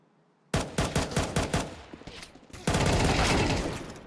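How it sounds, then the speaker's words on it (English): Rapid gunfire exchange on A site during a competitive Counter-Strike match, a quick run of sharp shots followed by a denser, sustained burst of overlapping fire, loud and close. "The gunfire exchanged on that A site as two players remain for Mavrek"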